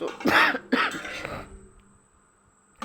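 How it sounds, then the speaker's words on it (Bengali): Two sharp coughs close together from a nearby person with a cold, then near silence. "আসলে আমার ঠান্ডা থেকে তো কাশি হয়ে গিয়েছে।"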